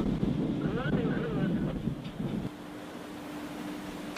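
Strong wind and rain lash a research ship at sea at night, with a steady, loud, rushing roar filling the whole stretch and a faint hum underneath.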